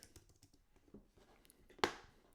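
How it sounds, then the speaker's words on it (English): Typing on a computer keyboard: a quick, irregular run of soft close key clicks, ending in one louder sharper keystroke, quiet and with no talking. "Let's click on this and let's type in BJJ."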